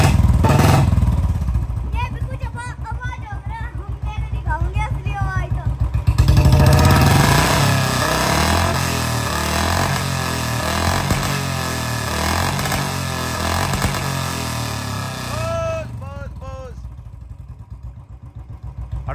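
Engine revving repeatedly during a sound check, loud and close, with rising and falling pitch over a steady mechanical drone while people talk over it throughout.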